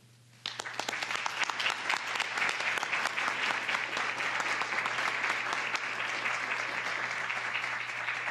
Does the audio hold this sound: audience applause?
yes